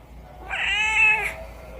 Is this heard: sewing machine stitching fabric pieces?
no